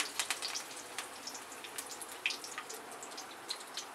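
Cumin, mustard seeds and curry leaves sizzle in hot oil for Maharashtrian thapi vadi, a faint steady crackle with scattered sharp pops and spits.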